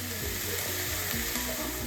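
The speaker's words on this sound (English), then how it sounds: "We'll saute these for a couple minutes and then throw in the garlic." Vegetables sauté in a pan with a dense, continuous sizzle and close crackling throughout, loud and unbroken for the short stretch.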